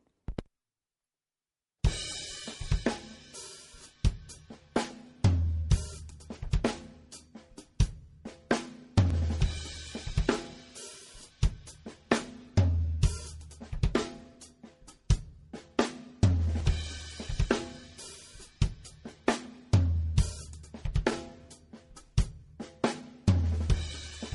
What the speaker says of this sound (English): if I play the whole groove together with this quintuplet roll at the end, it sounds like this.